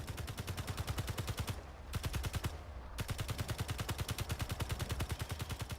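Rapid automatic gunfire in Space Engineers hammers out in a fast, even stream of shots. It breaks off twice briefly, then resumes, loud and continuous.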